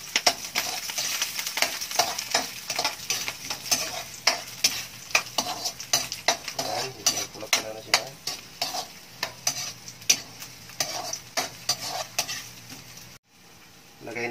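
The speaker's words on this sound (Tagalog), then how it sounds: "Mainit na yung mantika, ilagay natin yung luya." Ginger dropped into hot cooking oil for a mung bean stew, crackling and sizzling loudly up close with frequent sharp pops and stirring scrapes throughout, briefly cutting out near the end, with no one talking.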